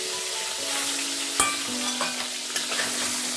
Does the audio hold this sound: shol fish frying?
yes